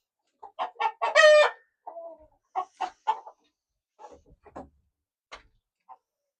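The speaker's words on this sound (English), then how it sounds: "Y'all, these chickens." Chickens cluck and squawk in a series of close, loud bursts, with one long drawn-out call near the start and scattered softer clucks after it, in a backyard garden setting.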